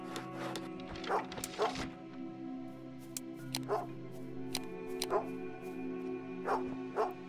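A puppy barks and yips repeatedly indoors over a steady hum of video game background sound, with short sharp yaps scattered across the stretch and no one talking.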